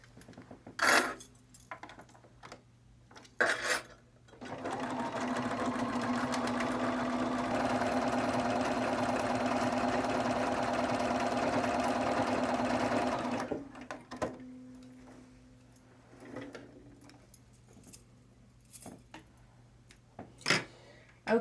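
A sewing machine runs a zigzag stitch on a triangle zipper bag, a steady close mechanical whir lasting about nine seconds, framed by a few scattered handling clicks before and after.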